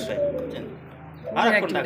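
A blue bar shirtin pigeon coos close by in a pigeon market, low repeated throaty calls followed by a louder burst of coo, with other birds and a voice around.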